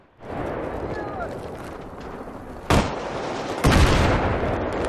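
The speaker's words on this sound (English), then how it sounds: "Oh wait, I already threw a grenade." Battlefield 3 grenade blasts come as two sharp, loud booms a second apart, the second louder, over continuous battlefield rumble.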